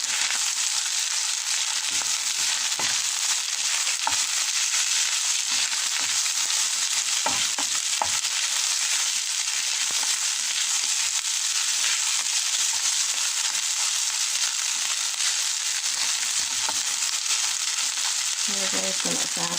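Fried rice with corned beef and Spam being stirred in a pan: a steady, close broadband sizzle with scattered scraping and clinking stirs throughout, no talking.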